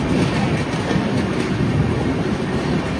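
A train runs along the track near Nallapadu, close and loud, with a dense continuous rumble and a rhythmic clatter of wheels over rail joints.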